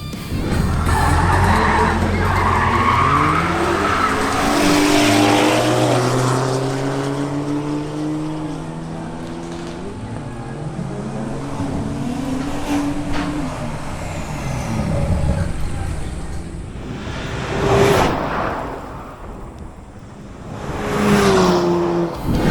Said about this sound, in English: Next up is John Loaiza in his BMW X4 M40i